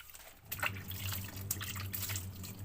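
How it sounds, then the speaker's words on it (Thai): Washing wild red mushrooms that were soaked in salt water, heard as close, steady splashing and trickling water with small drips, and no talking. "เห็ดที่เราได้แช่น้ำเกลือไว้แล้วนะคะเราก็มาล้างกันเลยจะได้แกงนะคะ"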